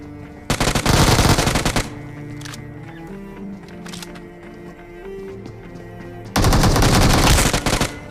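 Automatic gunfire from a Halloween-mode mobile shooter game played on a Poco X3 Pro, in two loud, sustained bursts near the start and end, separated by quieter in-game ambience.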